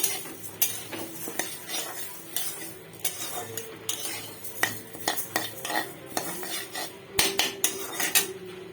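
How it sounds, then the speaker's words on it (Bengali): A metal spoon stirring moong dal as it dry-fries in a pan, giving irregular clinks and scrapes against the pan, close and fairly quiet, with no talk. "একটু লাল লাল করে আমি ভেজে নেব মুগ ডালটা।"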